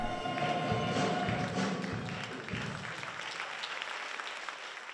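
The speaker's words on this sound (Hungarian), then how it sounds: "amit vastapsal köszönt meg a közönség" A concert audience at a music school gala gives sustained applause after a well-known farewell song, a dense and fairly distant wash of clapping that slowly fades.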